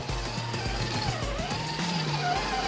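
A Gen 8 RC crawler truck on Proline BFGoodrich Krawler tires driving, its small electric motor whining and surging up and down in pitch with close, steady drive noise and no talk.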